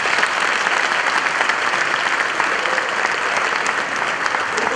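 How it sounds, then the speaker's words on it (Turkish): Sustained audience applause at a stage event honouring Quran teachers, dense and steady throughout, loud and close with no break. "Alkışlarınızla efendim."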